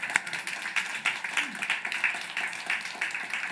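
A church congregation at a Sunday worship service claps in a quick, steady rhythm of sharp hand claps, mixed with a speaking voice.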